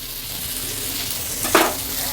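Curry leaves, coriander and green chillies sizzle steadily in a hot iron pan with mustard seeds, a constant close frying hiss, and a brief scrape of stirring near the end.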